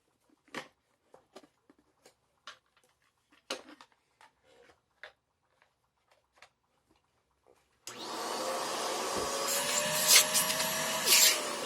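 An Electrolux Model L vacuum cleaner switches on after several sharp knocks and rattles, then runs loud and steady with a whining motor hum and rushing airflow to the end.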